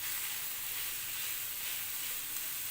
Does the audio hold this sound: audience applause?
no